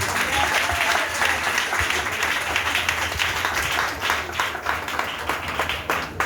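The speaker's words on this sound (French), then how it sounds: "Acclamons le Seigneur." A church congregation applauds steadily throughout, a dense continuous wash of clapping from a large crowd with a few voices mixed in.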